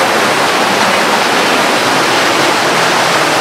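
Bhatta Falls near Mussoorie pours in a dense, constant hiss of falling water, loud and close, a steady unbroken rush with no voices.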